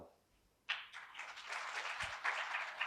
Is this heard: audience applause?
yes